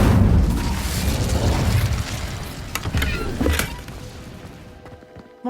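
An Incendio fire spell goes off in Hogwarts Legacy, a loud whooshing burst of flame with crackling and thumping that fades out over several seconds.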